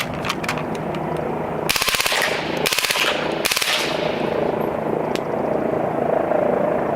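Air gun firing Vortex lead pellets in three rapid bursts of sharp, rattling shots, each lasting about half a second, set against a steady background hum.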